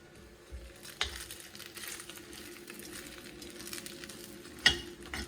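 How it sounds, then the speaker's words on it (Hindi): Cinnamon French toast shallow fries in a pan, giving a soft, steady sizzle with a couple of sharper clacks as slices are turned, quiet and close, no talk. "सभी फ्रेंच टोस्ट शैलो फ्राई करेंगे।"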